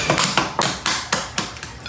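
Sharp knocks of a balut duck egg being tapped against a surface, about seven evenly spaced raps close to the microphone with no talking.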